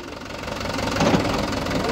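A tractor hauling a laser land leveler strains while stuck during sugarcane planting, its engine knocking in a steady, loud, close drone with rough low-end vibration that swells slightly midway.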